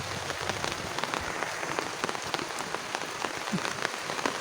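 Steady rain falls outdoors on crop plants in a flooded field, a constant dense patter of drops with scattered sharper taps, close and unbroken, with no voices.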